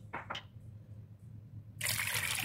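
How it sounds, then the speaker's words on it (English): Water from a tap or jug pours into a cooking pot while okra and ugu soup with fish is being prepared, starting as short trickles and then becoming a steady, louder splashing gush near the end. "Add some water, not too much water."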